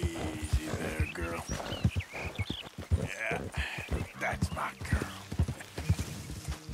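Horse hooves clip-clopping in the open-world Western game Red Dead Redemption 2, a steady rhythmic trot near a camp by trees, heard under continuous game voices and music.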